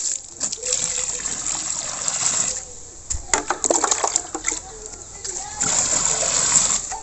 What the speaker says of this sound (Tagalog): So magdagdag ulit ng tubig